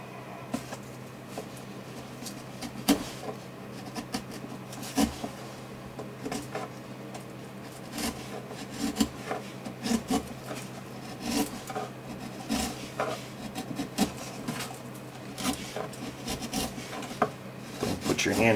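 Chisel paring a wooden back brace for a guitar, irregular scraping and rasping strokes with occasional sharper knocks, close and moderately quiet over a steady low hum.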